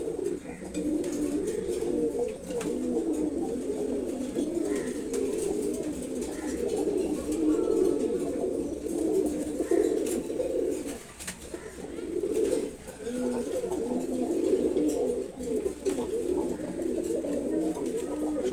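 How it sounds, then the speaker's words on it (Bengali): A silver Gorra pigeon pair, the hen sitting in a clay pot, cooing almost nonstop in low, rolling, throaty phrases nearby, with a brief dip near the middle before the cooing resumes. "সিলভার গোর্রা কবুতর জোড়া, হাড়িতে যেটা বসে আছে এটা হচ্ছে মাদি কবুতর"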